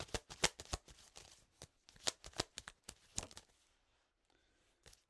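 Tarot cards are shuffled and drawn by hand for a Halloween oracle reading: a quick run of crisp riffling flicks and slaps, then a quieter pause and one last soft card sound.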